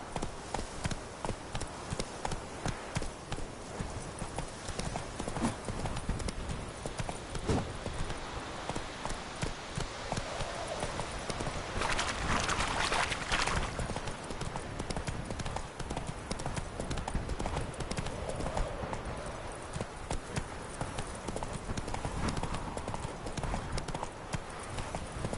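Roach, the horse in The Witcher 3, galloping with a fast, steady run of hoofbeats close up for the whole stretch, a brief rush of wind or spray rising midway.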